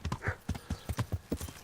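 A horse in the video game Kingdom Come: Deliverance gallops at speed, its hooves striking in a quick, regular clip-clop rhythm close by, with no one talking.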